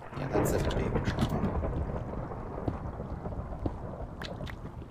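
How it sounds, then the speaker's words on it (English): A Minecraft thunderstorm rumbles in a low, steady roll with rain-like hiss and scattered sharp crackles, heard fairly loud and continuous for the whole stretch. "I hear a storm up there."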